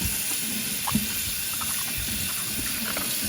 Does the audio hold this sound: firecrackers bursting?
no